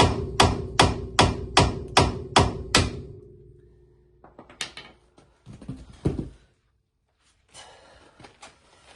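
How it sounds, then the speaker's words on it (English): A hammer strikes hard about eight times in a quick, even rhythm to shock loose stuck parts on a Honda Integra Type R DC2 project car, followed by a few scattered metallic knocks and clunks. "is just to hit them with a hammer to try and shock them out"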